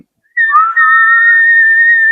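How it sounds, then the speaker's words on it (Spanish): A person whistles one long, steady, high note on a single breath, loud and close, sustained without a break after a brief silent start. "Del silbido más largo del mundo"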